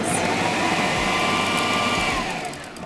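A food processor gives a final mix to buttery biscuit crumbs for a no-bake toffee apple cheesecake base. The motor makes a steady, close whirring hum for a few seconds, then begins to wind down.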